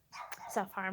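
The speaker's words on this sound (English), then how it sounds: "you'll have to excuse the barking in the background" A Shih Tzu barks from across the street, a few sharp yaps close together mixed in under a person talking nearby.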